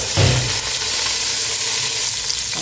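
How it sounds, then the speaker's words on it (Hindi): Chopped onions hit hot fat in a pan for zafrani chicken pulao, setting off a loud, close, steady sizzle and crackle that bursts up at the start and keeps frying evenly throughout. "और इसके बाद मैं इसमें डाल दूँगी प्याज।"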